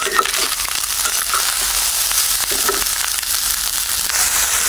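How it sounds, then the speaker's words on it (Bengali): Leftover cold rice crackles and sizzles as it fries in oil left from frying eggs, a dense steady hiss with scattered pops and scraping stirs, close and loud. "ডিম ভাজার তেলের মধ্যে হচ্ছে ভাত করে একটু ভাজা দিতেছি"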